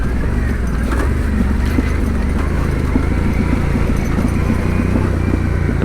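A Yamaha Tenere 700 rides a steep, washed-out single-track trail, its engine a loud, steady, close drone under load with no break for the whole stretch.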